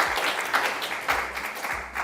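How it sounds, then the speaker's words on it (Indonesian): An audience claps at a promotional event for a horror-comedy film. The applause is brisk and fairly loud, with swelling bursts over about two seconds. "boleh tepuk tangannya teman-teman Movieverse"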